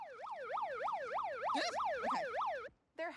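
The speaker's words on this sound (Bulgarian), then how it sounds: "затова си носим сирена. Силният звук ги плаши" A loud wailing siren for scaring away rats rises and falls rapidly in a steady rhythm, briefly cutting out near the end before starting again.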